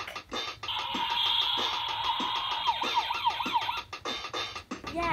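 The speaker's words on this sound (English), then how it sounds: "Fire truck." A toy fire truck sounds a loud electronic siren up close, a steady high tone shifting into wavering wails, with rapid clicking pulses running underneath.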